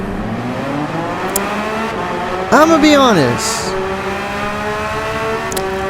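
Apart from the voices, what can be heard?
Porsche race car engine revving in Gran Turismo 7 video game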